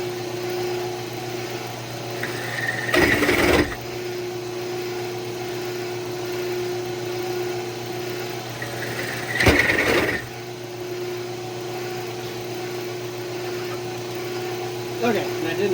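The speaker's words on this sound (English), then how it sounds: "that's how you freehand drill a pipe" A motor hums steadily throughout as a pipe is drilled freehand, broken by two short, harsh bursts of bit grinding into the material, plus a brief third near the end.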